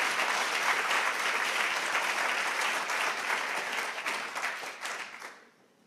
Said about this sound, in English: Angie Holbrook and her team, and Alice Damaris and her team. Let's give them a round of applause.